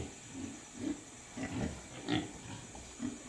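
Pigs on a farm grunting in short repeated low bursts, close by and moderately loud over a steady background hum, with no talking.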